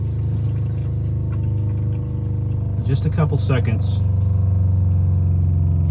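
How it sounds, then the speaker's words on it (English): Camper's internal freshwater pump running steadily, a continuous low hum close by, with someone briefly speaking partway through. "hopefully you can hear that pump. It's still running"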